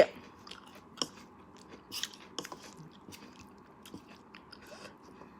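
Someone eats a simple, clean tuna salad, with close, crisp bites and moist chewing and crunching in irregular bursts, with no talk over it.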